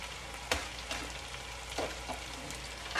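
Green garlic dropped into a hot pan for a striped bass fish stock, crackling with a steady close sizzle and a few sharper bursts as pieces land and are stirred.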